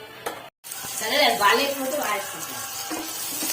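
Sliced onions stirred in hot oil with cloves and cinnamon sticks for a chicken curry, a close sizzle that swells after a brief cut and scraping stir, then settles into a steady fry.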